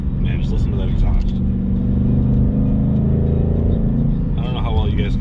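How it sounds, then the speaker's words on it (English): A 2020 Ford Mustang Bullitt's exhaust drones steadily and loudly from inside the car while driving, with a voice talking over the rumble at the start and end. "Man, just listen to that exhaust."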